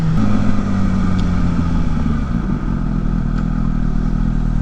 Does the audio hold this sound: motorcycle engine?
yes